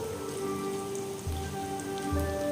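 Potato bread rolls frying slowly in hot oil give off a continuous crackling sizzle like rain on a surface, heard close with a faint hum beneath and a couple of low bumps as pieces shift.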